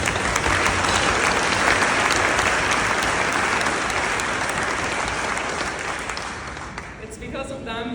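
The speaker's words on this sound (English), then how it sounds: "please join me in giving a round of applause to this fantastic group of people" A large audience at a sarcoma fundraising gala applauds loudly and steadily, the dense clapping thinning slightly near the end as a voice begins to speak.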